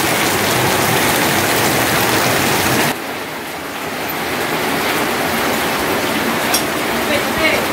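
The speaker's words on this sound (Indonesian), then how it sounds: "Padahal hujan." Heavy rain falls as a loud, dense, continuous hiss of drops on surfaces. It eases slightly partway through and then keeps pouring steadily.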